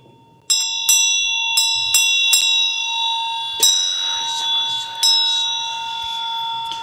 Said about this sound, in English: I have to ring my bell.